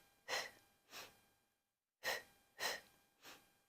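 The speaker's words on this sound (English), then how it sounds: "We exhale twice." Sharp exhaled breaths during a Pilates oblique exercise, delivered in paired puffs: two close, forceful exhales, a short pause, then three more in a steady rhythm.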